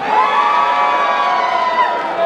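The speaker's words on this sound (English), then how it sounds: "Let's have a cheer for the red corner." A mixed-martial-arts crowd in Newcastle cheers, whoops and shouts loudly and steadily for the red corner, a dense roar that holds for the whole moment.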